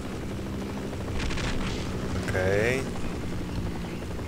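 A helicopter in the video game Half-Life drones as a steady, loud rumble with broadband wind-like noise throughout, while someone briefly speaks over it.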